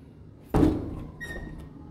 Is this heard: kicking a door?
yes